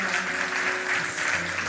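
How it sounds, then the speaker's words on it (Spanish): A congregation applauding at a Spanish-language church service, a short, fairly faint and steady wash of clapping with a faint tonal hum beneath. "Un fuerte aplauso para el Señor."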